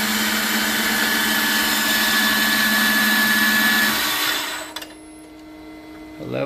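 A milling machine spindle whirring steadily at speed, then braking quickly under its VFD brake to a near stop in about half a second, leaving a faint residual hum, no talking.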